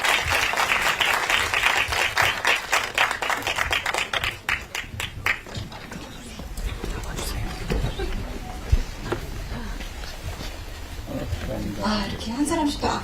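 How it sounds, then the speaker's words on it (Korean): A large audience at a Busan International Film Festival screening applauds steadily, dense clapping that gradually thins out, with a voice speaking over it near the end. "여러분들 큰 박수 부탁드립니다"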